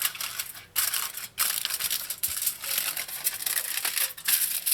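Aluminium foil is folded and pressed around a soya-filled Trini pastelle, making close, bright crinkling and crackling in bursts separated by brief pauses, with no talk.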